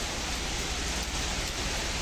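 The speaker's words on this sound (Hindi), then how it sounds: "और भयानक बारिश लग रही है" A heavy rain shower with strong winds hits in a dense, steady roar of falling water, loud and unbroken from start to finish, with no voices.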